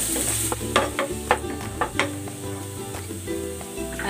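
Ginger sautéing in a hot pan, a steady close sizzle broken by several sharp stirring clatters of a utensil against the pan.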